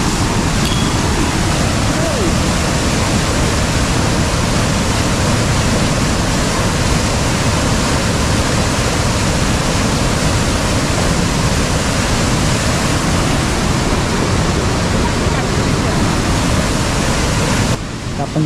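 Flood water rushes in a loud, unbroken roar after sudden heavy rain in Konkan, the dense wash of sound filling every moment with no break.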